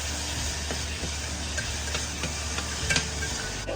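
Chopped tomato sizzles steadily in a hot pan while a utensil scrapes and stirs with occasional light clicks, close and fairly loud.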